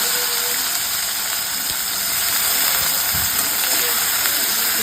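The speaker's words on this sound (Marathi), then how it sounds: "हेच तेलामध्ये आता मी गवळ टाकते थोडी आपल्याला अशी परतावायची" Cluster beans (guar) sautéing in hot oil give a steady, close sizzling hiss that holds level throughout, with faint clinks of stirring under it.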